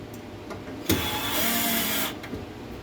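A power drill drives a screw while a pea trellis is being built indoors: a single whirring burst of about a second, close and fairly loud, with quieter room sound before and after.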